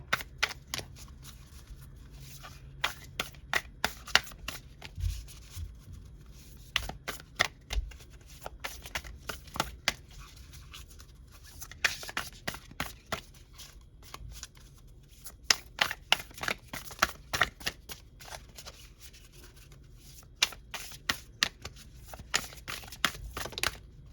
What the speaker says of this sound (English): So they're telling me to pull a card from this deck here.